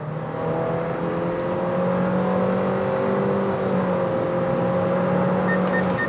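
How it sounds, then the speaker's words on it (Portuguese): A Honda City Touring or Nissan Versa Exclusive accelerates on the road toward a truck ahead during a forward collision alert test, its engine holding a steady, loud drone that rises slightly in pitch, with no voices, and a faint beeping near the end. "Temos um caminhão aí à nossa frente, vamos acelerar contra ele,"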